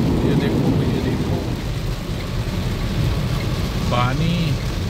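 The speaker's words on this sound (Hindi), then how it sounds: "बहुत ही ज़्यादा बारिश" Heavy rain drums steadily on the vehicle during a drive along the Indore–Ahmedabad road near Godhra and Dahod, a dense continuous wash with low rumbling throughout and a brief voice near the end.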